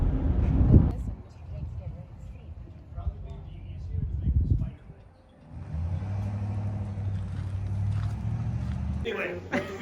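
A car driving out in the country, heard as a steady low engine rumble and road noise from inside the vehicle, dipping midway and then resuming with a humming drone, while people talk over it.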